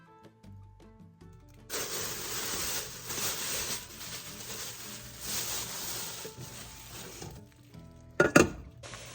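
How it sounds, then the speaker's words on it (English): Bacon fries in its own rendered fat while being stirred, a steady close sizzle with scraping rubs from about two seconds on, ending in a brief louder clatter near the end. "I just keep stirring the bacon, and it'll just fry in its fat there."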